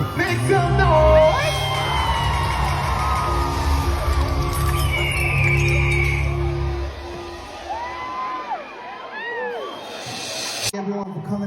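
At a 20,000-capacity concert, a large crowd cheers, whoops and yells loudly near the mic, then the roar thins to scattered shouts and whistles before a voice speaks over it.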